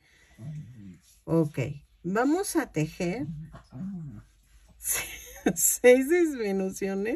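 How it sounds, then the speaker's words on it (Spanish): A small female dog whimpers and yips intermittently as it rolls around behind a person speaking and laughing, with soft rustling as the animal shifts around nearby. "Disculpen el ruido, es mi latosa perrita que anda revolcándose atrás de mí."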